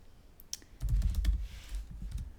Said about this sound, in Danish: Og så skriver du en e-mail.